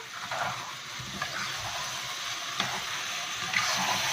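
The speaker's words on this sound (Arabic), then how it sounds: "ياخد مع الحاجات دي تشويحه برضه قبل ما انزل بالميه اهو. اقلبها تقليبه حلوه." Rice stirred and sautéed with other ingredients in a hot pan for kofta with potatoes, a steady close sizzle running throughout with a few soft spoon scrapes and clinks.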